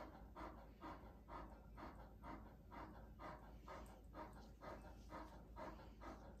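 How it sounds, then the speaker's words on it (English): A large Irish Wolfhound undergoing chemotherapy pants and breathes heavily in a steady rhythm indoors, faint and close, with no distinct barking. "We're barking at the neighbor outside?"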